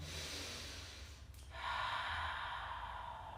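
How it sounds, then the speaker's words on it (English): Steady deep breathing during a family yoga session, slow soft airy inhales and exhales heard close and alone with no talking, a brief pause midway before a fuller breath. "see if you can find some stillness and calmness as well as deep breathing"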